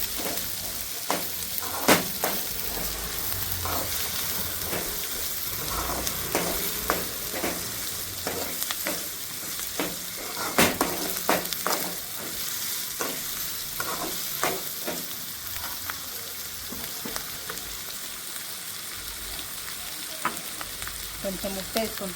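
Onions, curry leaves and green chillies frying in a pan, a continuous close sizzle with repeated light scraping and tapping of a spatula throughout.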